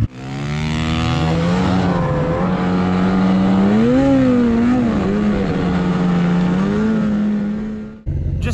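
A pop-started snow bike engine, towed behind a snowmobile to get it running, roars loud and steady with rising and falling revs for about eight seconds, then cuts abruptly.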